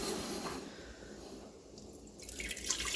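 Grape juice is poured into a pot for making jelly, a faint, soft liquid splash and trickle that swells slightly toward the end, with no voices.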